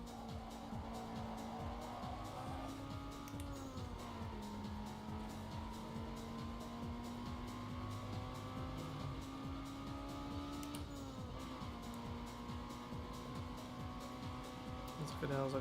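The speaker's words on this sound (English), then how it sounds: "Kinda sounds like an Evo" A Mitsubishi Evo car engine in Need for Speed Underground 2 drones steadily at high revs, its pitch dipping and rising with gear changes, and a voice talks over it throughout.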